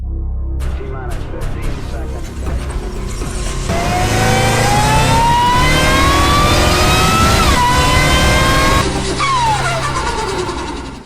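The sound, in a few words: 2023 Dodge Charger Scat Pack Swinger Special Edition engine revving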